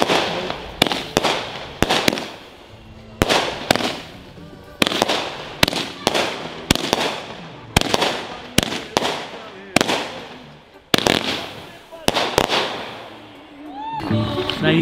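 Booming fireworks shots explode in rapid repeated bursts during a big New Year's fireworks show, each loud crack followed by crackling decay, with people talking in between.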